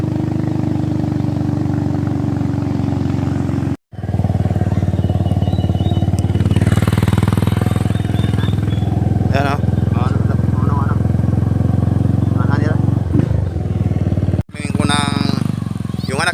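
A motorcycle engine runs steadily with a low idling drone, passing through an outdoor spot where dogs are kept, with a short gap partway and people talking over it.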